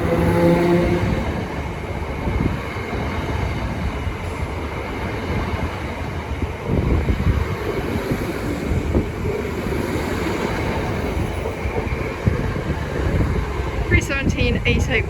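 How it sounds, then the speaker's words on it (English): A Greater Anglia passenger train pulls out of Cambridge North station bound for London Liverpool Street, its steady rumble and rolling wheel noise filling the platform alongside some wind, with brief high squeals near the end. "Now departing is the 1403 Great Wranglia service from Cambridge North to London Liverpool Street."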